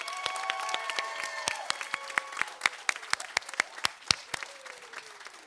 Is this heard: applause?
yes